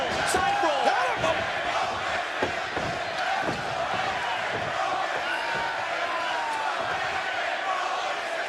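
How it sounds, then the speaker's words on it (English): Arena crowd at a TNA Lockdown 2010 wrestling event in St. Louis, Missouri roars in a broad continuous wash, with scattered thuds from the ring and shouts rising over the din. "Do you hear the reaction from this incredible crowd in St. Louis, Missouri?"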